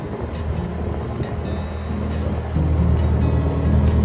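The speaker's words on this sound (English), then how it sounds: "This wind's picking up today." Wind buffets a canal boat cruising near Atherstone, a loud, rushing microphone roar over a low engine rumble that grows stronger in the second half, with no talking.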